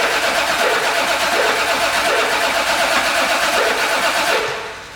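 A Toyota Supra engine on its first start runs loud and steady with a rough, rhythmic idle pulse for several seconds, then cuts off and fades out at the end.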